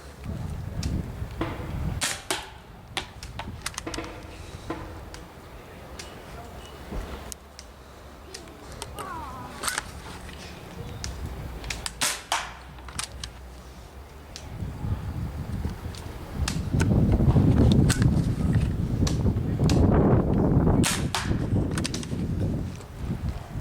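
Paintball marker firing Scenario Dreams sniper fin rounds outdoors on a hot day, a string of sharp shots spaced through the clip with wind noise and a louder rustling stretch near the end.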